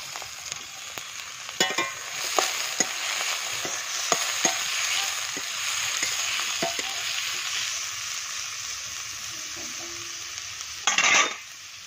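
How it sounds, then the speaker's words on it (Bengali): Onions fry in hot oil in a heated kadai for a meat curry, a continuous moderate sizzle with scattered crackles and scraping stirs, ending in a louder clatter of a utensil against the pan; no talking. "তো আমার এই দেখো পেঁয়াজ ভাজা হয়ে গেছে"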